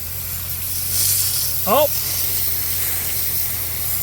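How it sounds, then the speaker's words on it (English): Water sprayed from a hose onto a boat hull being rinsed of cleaner, a steady broad hiss running throughout with a short exclamation partway through. "we're going to go ahead and spray it off"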